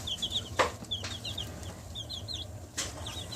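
Barred Rock chickens make short clucking and chirping calls in a quiet coop, with a few soft peeps scattered across a low background rumble.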